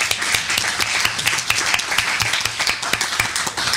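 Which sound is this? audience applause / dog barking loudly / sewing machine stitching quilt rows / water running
audience applause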